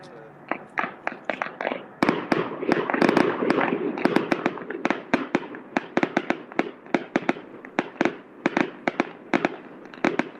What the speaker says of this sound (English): That sounds like a lot of fireworks.